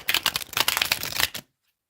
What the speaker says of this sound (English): We'll shuffle the deck.